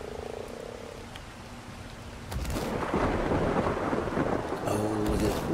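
A frog croaks in the video game ARK: Survival Evolved, with a few low croaks at first. Then rain and a thunder rumble set in, and more croaking returns near the end, with no talking.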